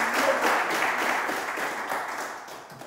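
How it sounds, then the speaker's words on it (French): Audience applause for contestants on a French quiz show, a full, moderately loud burst of many hands clapping that gradually thins out, with no talking over it. "Merci de les applaudir et de les accompagner avec des applaudissements"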